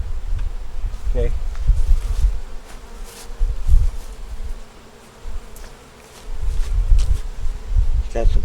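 Close, loud buzzing of honeybees on pollen at a hive with a low droning hum that swells and fades, briefly dropping away before returning.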